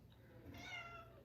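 A pet cat gives a single faint meow, a short rising-and-falling cry heard from nearby in a quiet room.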